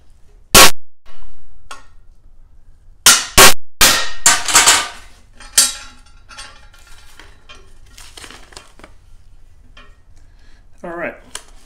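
A hammer drives a center punch into metal parts during a Predator 212 powered bike build. Several loud, sharp metallic strikes ring out, some single and some in quick pairs, with softer clinks and handling noises between them.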